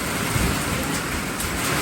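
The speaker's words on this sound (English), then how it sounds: "We got hail hitting." Hail and heavy rain pelt down steadily during a severe spring storm in southeast Ohio. They make a dense, constant hiss and patter with rumbling wind underneath, loud and close throughout.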